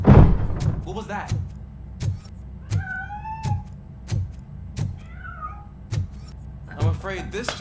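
Cat in the RoboCop Rogue City game, a few short meows rising and falling amid sharp rhythmic thumps and clunks, with a voice speaking at times.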